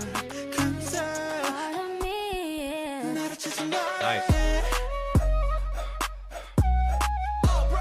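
A flute plays a melodic line in a song, amid a full pop mix with steel drums and deep pulsing bass hits, at moderate volume with no talking.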